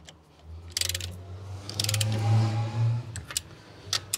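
A hand wrench snugs double-bolted 20mm wheel spacer bolts on a Tesla Model with the wheel resting on the ground, giving bursts of ratcheting clicks and metallic grinding, close and fairly loud, with a few sharp clacks near the end.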